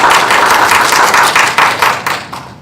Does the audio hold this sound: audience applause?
yes